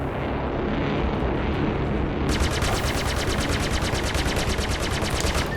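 Ballistic guns on an Aurora spaceship in Star Citizen fire a rapid, evenly spaced burst of shots over a loud, constant engine rumble. The shots keep going without a break to the end.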